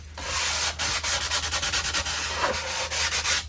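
Wood with visible flame figure is sanded smooth by hand with 220 grit sandpaper, close and loud, in a quick run of rhythmic back-and-forth rubbing strokes.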